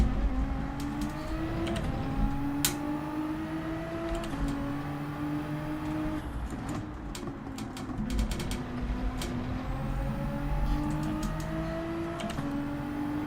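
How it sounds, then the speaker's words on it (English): Nissan GT-R Nismo in Gran Turismo 7 on an out lap at Monza, a steady engine drone with rising and falling gear-change sweeps repeating every couple of seconds, moderately loud and alone. "So I'm using the Nissan GTR Nismo"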